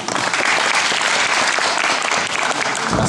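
A room full of people claps steadily at a round-table university event, dense even applause sustained throughout without letup.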